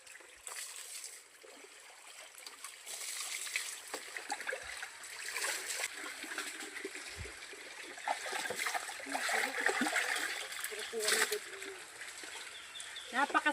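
Water splashes and trickles steadily as people bathe outdoors in cold water, with birds faintly in the background and voices talking now and then over the flowing, splattering sound.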